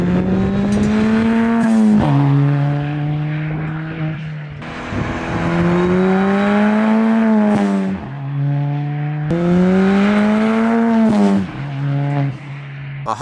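A Ford ST with a loud side-exit exhaust makes three separate close drive-by passes. Each pass is a rising, snarling engine note, then a dip in pitch as it shifts gear, then the sound fades away.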